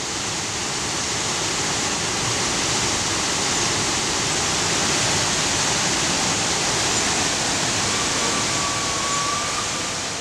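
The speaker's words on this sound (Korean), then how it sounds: "세차게 떨어지는 폭포수와 하얗게 부서지는 물보라" A powerful waterfall on Sumatra roars as crashing water and white spray fill the air with a dense, steady rush of broadband noise, loud and close, unbroken throughout with no voices.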